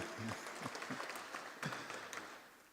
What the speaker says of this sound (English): Kindly give him a warm round of applause.